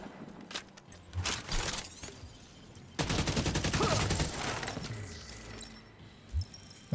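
Rapid bursts of video game gunfire, dense rattling volleys with a long sustained stretch in the middle, then scattered lighter shots and clatter, with no voices.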